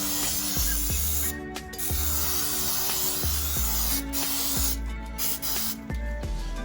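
Bursts of cooking spray hissing onto a cake pan being greased for an Oreo pound cake, several short close sprays in a row with brief pauses, over faint clicking of the can and rhythmic low thumps.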